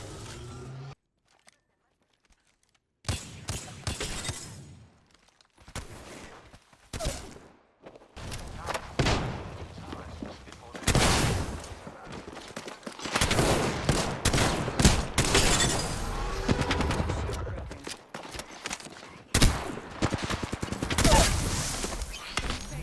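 Close-range shotgun and weapon fire in a video game, with repeated sharp blasts and bursts of rapid shots arriving in clusters between quieter gaps, mixed with thuds and footsteps, loud and near.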